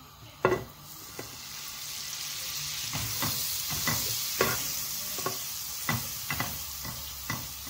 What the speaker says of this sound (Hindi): सबसे पहले एक पैन लेंगे, इसमें हम डालेंगे बटर, मक्खन।